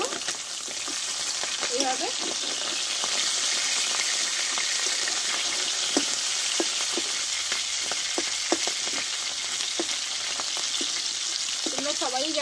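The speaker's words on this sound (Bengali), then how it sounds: "আমি 1 পিস ভালোভাবে আমি হিট করে ভেজে নিলাম। এবার আমি উল্টিয়ে নেব" Gucchi fish fries in hot oil in a pan, a constant bright sizzle with occasional crackles and spatters, and a brief spoken word near the end.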